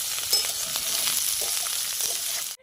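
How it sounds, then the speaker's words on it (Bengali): Jackfruit frying in hot oil in a pan, a steady close crackling sizzle with soft stirring scrapes, running without talk before cutting off abruptly at the end. "এঁচড়টা আমার ভাজা হয়ে গেছে সুন্দরভাবে"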